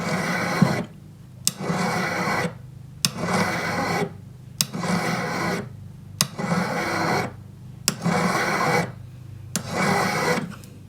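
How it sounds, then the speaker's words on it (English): A hand file rasps along the edge of a metal wide band ring, smoothing it in a regular rhythm of about seven firm close strokes separated by short pauses, with no talk. "I'm going to file it smooth"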